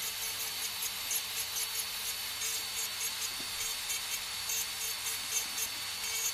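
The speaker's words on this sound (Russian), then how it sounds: "переключаем фрезу на реверс и работаем в другом направлении" An electric nail drill with its bit running in reverse files an artificial nail during a correction, a steady high whirring grind with faint rhythmic rubbing pulses, close and continuous without talk.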